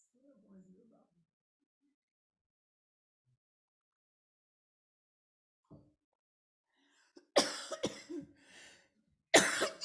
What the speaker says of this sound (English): You could all cough with me if you like.